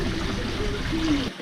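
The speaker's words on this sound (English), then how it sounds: "what we're doing is just pour them into the containers here" Freshly pressed homemade Shiraz wine is poured into containers, making a close, steady trickling and gurgling stream that stops abruptly at the end.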